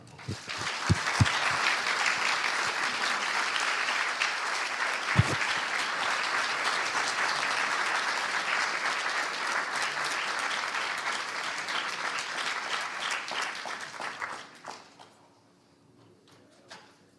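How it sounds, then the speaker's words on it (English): A long, steady round of audience applause at a conference in Springfield, Missouri, sustained clapping from a crowd that holds for most of the stretch before cutting off into near silence. "Help me give Ron a hand of applause here."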